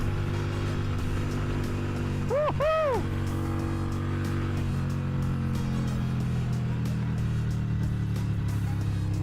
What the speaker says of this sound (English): As I brought the bike up to speed here to go over the Los Olas Bridge, you can see the vibration as that 883 engine shook violently.